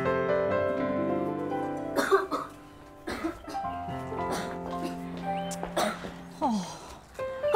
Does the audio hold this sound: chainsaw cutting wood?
no